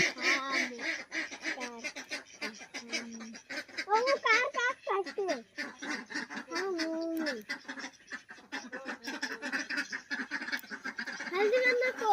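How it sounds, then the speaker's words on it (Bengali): Village ducks and chickens kept at home call out nearby, with loud nasal quacks and honk-like cries coming in repeated bursts over a steady outdoor background. "এই যে হাঁস মুরগিগুলো"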